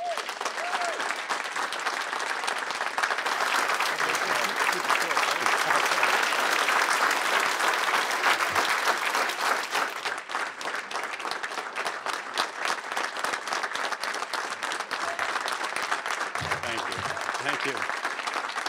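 An audience applauds to welcome the UWM interim chancellor, Mark Mone: sustained dense clapping from a crowd lasting the whole stretch, loud and steady with slight swells.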